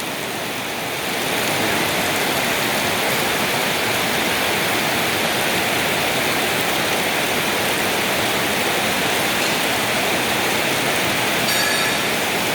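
Heavy rain pours steadily onto green rice paddies, a dense, unbroken hiss that stays loud and even throughout with no voices.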